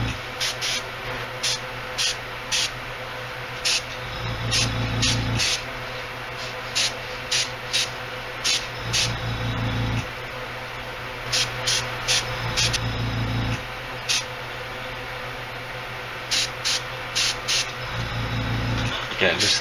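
Intermittent bursts of spray gun hiss applying thin white paint in short, regular pulses, with a steady low machine hum running underneath.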